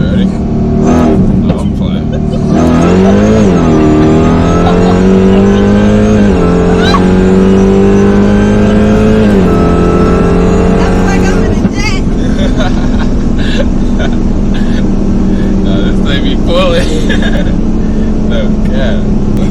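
A 1000HP Dodge Hellcat accelerating hard and revving, the engine note climbing through several gear pulls before settling into a loud steady drone, with people talking over it inside the car.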